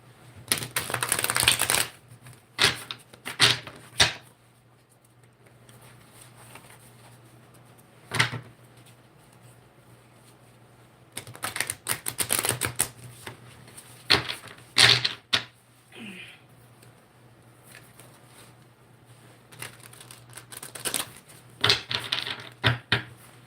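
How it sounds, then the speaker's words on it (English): A deck of playing cards being shuffled by hand, several bursts of crisp riffling and flicking separated by quiet pauses, close up, with no talking. "Let's shuffle this deck some more here."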